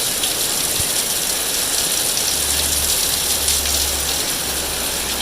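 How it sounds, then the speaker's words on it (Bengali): Heavy monsoon rain pours down outside in a steady, dense hiss with no break, and a low rumble runs underneath partway through. "বাইরে পুরো মুষলধারে বৃষ্টি।"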